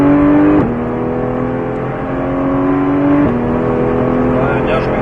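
A car on a driving-school track pulls away with a steady engine drone, the pitch climbing through gear changes with two clear shifts, close and continuous under a voice giving instructions.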